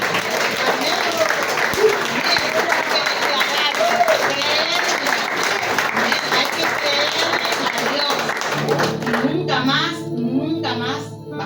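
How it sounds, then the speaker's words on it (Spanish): A church congregation applauds the Lord during a service, a dense, sustained wash of clapping mixed with cheering voices and a child's chatter, before it thins and a speaker carries on over music. "le damos un fuerte aplauso al Señor porque ya quiere trabajar"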